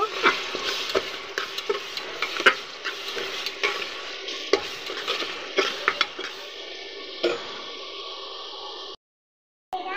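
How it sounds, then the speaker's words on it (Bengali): Onions fry with bay leaves, garam masala and cardamom in a pressure cooker while a spoon stirs. Sizzling runs under a series of sharp metallic scrapes and clinks, then the sound cuts out briefly near the end. "দিয়ে আমি একটু ভালো করে নেড়ে চেড়ে নেব।"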